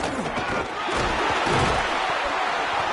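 A hostile stadium crowd in a college football video game roars as a loud, continuous wash of noise, swelling slightly midway, with thuds underneath.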